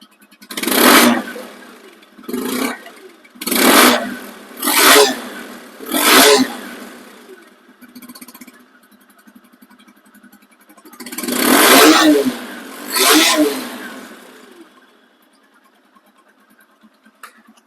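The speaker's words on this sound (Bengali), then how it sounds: "রানিং অবস্থায় আছে দেখছেন কি মিষ্টি সাউন্ড" A used TVS RTR 2V motorcycle engine revs up repeatedly in short bursts, idling low between them, then gives two longer, louder revs near the end.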